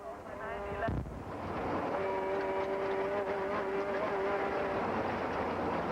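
Audi rally cars from the 1991 Baie des Chaleurs rally roar past at full throttle after a brief dip, a loud, sustained engine howl with shifting tones filling the whole stretch.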